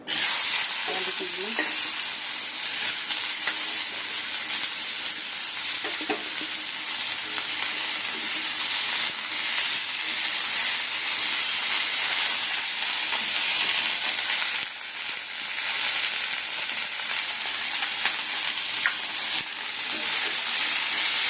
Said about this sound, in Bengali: আলু ভাজা সব করবো।